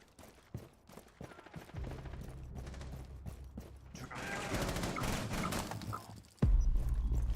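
Gunfire rattles in Call of Duty Modern Warfare Remastered during a bomb-defusal match, with scattered shots building into a denser burst of fire. A heavy thud follows near the end, under the game's background noise.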